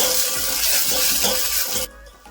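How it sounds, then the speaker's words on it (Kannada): Chopped onion, garlic and curry leaves fry in hot oil as a tempering for bele saaru, giving a loud, steady sizzle with rhythmic stirring strokes about twice a second, until the sizzle cuts off abruptly and leaves a quieter background. "ಇವಾಗ ಇದನ್ನ ಸ್ವಲ್ಪ ಫ್ರೈ ಮಾಡ್ಕೊಳ್ಳೋಣ ಎಣ್ಣೆಗೆ"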